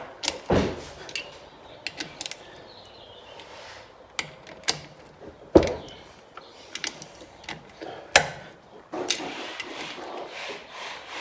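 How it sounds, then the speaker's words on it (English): A hand ratchet tightens the top bolts on a Yamaha Banshee engine during a teardown, giving sharp clicking strokes and scraping rubs in uneven bursts, close by with short quiet gaps between. "Take your ratchet again. Check your top bolts."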